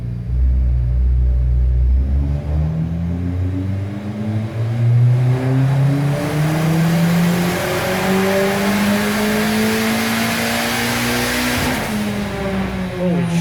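A turbocharged D16 Honda Civic engine revs hard on a dyno pull, its pitch climbing steadily from a low rumble to a loud strained wail before cutting off near the end, close and alone.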